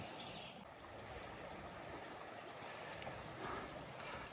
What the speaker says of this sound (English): We're just literally walking along the creek.